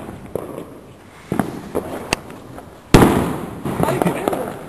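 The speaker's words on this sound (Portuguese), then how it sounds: "o que eu gosto do ano novo é os fogos" New Year's fireworks crack and boom outdoors in a series of sharp bursts, with one loud blast followed by a crackling rumble, while voices talk nearby.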